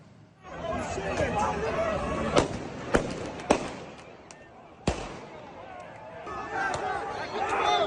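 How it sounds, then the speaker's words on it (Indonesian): Fireworks and firecrackers thrown by protesters at officers during an immigration demonstration give several sharp cracking bangs that stand out over constant crowd noise, with chatter and shouting throughout. "pengunjuk rasa melemparkan sejumlah petasan dan kembang api ke arah petugas dalam aksi demonstrasi"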